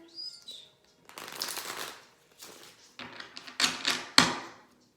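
A deck of reading cards being shuffled by hand, several rustling, riffling bursts in close succession, near and moderately loud with brief pauses between, no talk.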